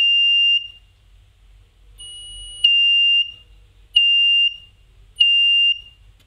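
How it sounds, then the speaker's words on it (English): The buzzer on a homemade IR proximity sensor touchless doorbell, built on a dotted PCB, sounds a high, pure electronic beep four times. The first and second tones are longer, the last two shorter, with silent gaps between them. "The output goes high and the LED and the buzzer"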